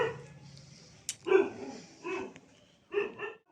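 Dogs bark in the background at a home during Christmas, three short bursts of barking spaced across a few seconds, fairly faint and distant over a quiet room.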